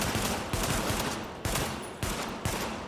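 Rapid bursts of automatic gunfire in the shooter game The Division crack out in several close, sharp volleys with brief gaps between them.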